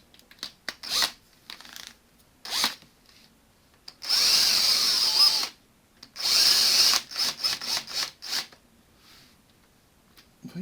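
A power drill fitted with a socket drives bolts on a Honda CB500 during a clutch swap, several close whirring bursts, two of them longer and sustained, separated by quiet gaps and short clicks.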